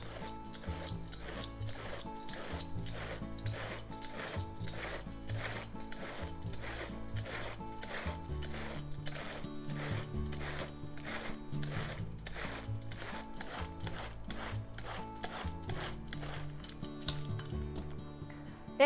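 A vegetable peeler shreds cabbage with a rapid, regular run of short scraping rasps, close and steady for the whole stretch, with no talk.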